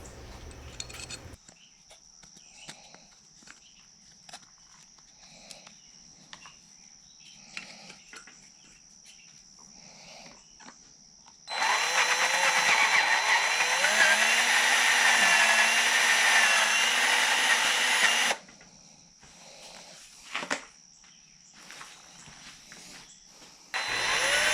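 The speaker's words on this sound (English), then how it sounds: "as I'm drilling my holes for the pins," A power drill boring pin holes into a knife handle runs in one continuous whining burst of several seconds, between quieter stretches of small handling taps and clicks.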